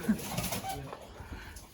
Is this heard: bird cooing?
yes